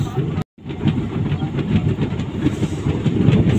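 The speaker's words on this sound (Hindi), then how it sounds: "सामने की पटरी से आ रही है ट्रेन और इधर से जा रही है हम लोग का ट्रेन" A train runs along railway tracks in India with a dense, continuous clatter and rumble of wagons close by, briefly cut by a short gap near the start, then rolling on with rhythmic clickety-clack under faint voices.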